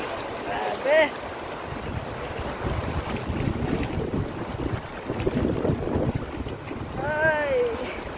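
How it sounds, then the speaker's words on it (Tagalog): Strong wind buffeting a boat at sea, a steady roaring rush with water splashing beneath, while voices speak and exclaim over it. "Mas mahangin pa."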